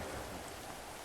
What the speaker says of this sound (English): The rain falls on the roof.